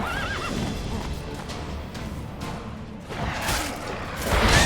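Roach, Geralt's horse in The Witcher 3: Blood and Wine, whinnies in rising calls over galloping hoofbeats, fairly close and loud amid in-game action, with no talk.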